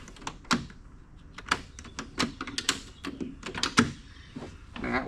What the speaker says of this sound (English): we'll make sure our door latch works.